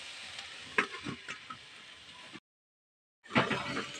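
Leafy greens with green chilli, turmeric and salt are stirred and sautéed in a pan, giving soft sizzling and scraping in two short bursts separated by a brief silent gap.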